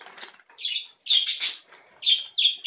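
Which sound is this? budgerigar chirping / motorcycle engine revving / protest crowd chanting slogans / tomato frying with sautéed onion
budgerigar chirping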